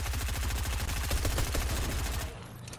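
Rapid pistol fire in Fortnite, a fast, even run of close, sharp shots that stops abruptly near the end.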